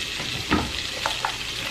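Onions dropped into a pan of frying guanciale: close, steady sizzle with a soft thump and a couple of brief scrapes, no talk.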